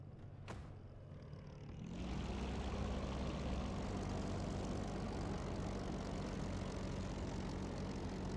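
A Spitfire IX piston aircraft engine in IL-2 Sturmovik: Battle of Bodenplatte kicks in after a short quiet start and then holds a steady, loud, low rumbling drone while taxiing, with no voices.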